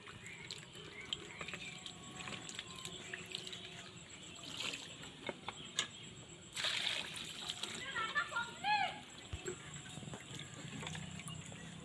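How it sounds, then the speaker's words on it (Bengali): Muddy carrots being washed by hand in water make faint splashes and trickles that grow busier toward the middle, with quiet talking in the background. "যেহেতু মাটির এটা গাজর অনেকটাই মাটি আছে এটা পরিষ্কারভাবে ধুতে লাগবে"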